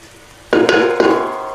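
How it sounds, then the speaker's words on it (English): Onions, garlic and pepper hit a hot pan for mussels marinière and burst into a loud sizzle, with two sharp clattering stirs of the pan before the frying settles into a steady hiss. "sweating down those onions in there with that garlic and a bit of pepper"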